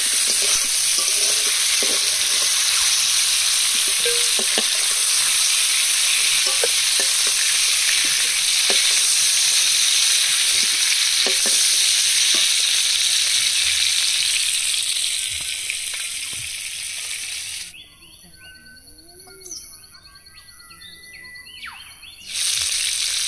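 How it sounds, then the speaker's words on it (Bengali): Tiger prawns fry in hot oil in a home kitchen, giving a loud, steady sizzle with occasional stirring clicks and pops. The sizzle drops away near the end, leaving a quieter pause before it returns. "চিংড়ি মাছগুলো জাস্ট 1 মিনিট ভেজে তুলে নেব"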